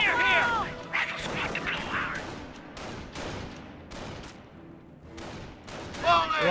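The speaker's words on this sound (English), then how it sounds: "Taking small arms fire here!" Small arms gunfire in the World War II strategy game Company of Heroes crackles in rapid, overlapping bursts of rifle and machine-gun shots, loud and dense, with game voice callouts mixed in.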